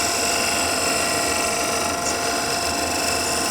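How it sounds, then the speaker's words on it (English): A workshop dust extractor runs with a loud, steady mechanical whir and hum, filling the space continuously without any break. "I'm just going to pop on that extractor."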